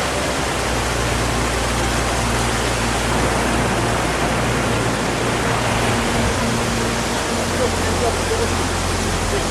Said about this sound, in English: There it was, Karagha Falls, also known as Saghaigu Falls to some locals.